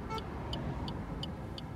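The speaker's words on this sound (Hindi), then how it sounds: "इन कार्स को निकलने देते हैं," Cars pass on a road in a steady broadband rush of traffic, with a faint rhythmic ticking, apparently an indicator, inside a Maruti Ignis 2020 petrol facelift.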